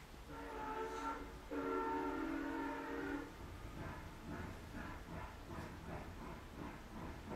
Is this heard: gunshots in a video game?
no